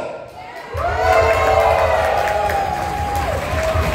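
A political rally crowd shouts and cheers in a loud, continuous roar of many voices, with a sustained whistle-like tone riding over it for a few seconds.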